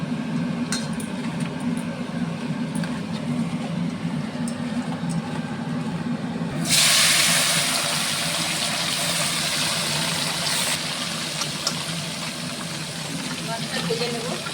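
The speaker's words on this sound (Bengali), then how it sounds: "মাছটা ভেজে নেব।" Piyali fish coated in turmeric and salt hits hot oil partway through, and a loud, broad sizzling hiss bursts out over a low background hum, then holds steady and strong to the end.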